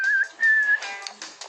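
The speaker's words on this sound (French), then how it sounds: "Les données sont converties en une série de sifflements" A short series of electronic whistles, a couple of sustained steady tones followed by quicker chirpy bursts, clear and close.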